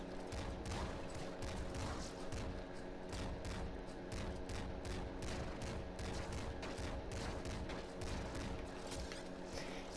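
Hyper slugger shots in the top-down shooter Nuclear Throne, a dense run of punchy gunfire bursts firing in a steady rhythm over a continuous game soundtrack, loud and with no voices.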